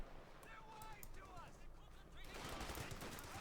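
MG42 machine gun firing in Company of Heroes 2, rapid rattling bursts in a busy battle mix, growing denser toward the end, with a commentator's voice running over it.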